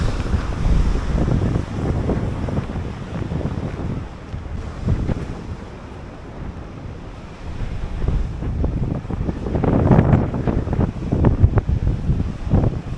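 Strong, gusty wind buffets the microphone at a mountain sunset viewpoint on Tenerife, a loud continuous roar that swells and eases with the gusts, with no voices.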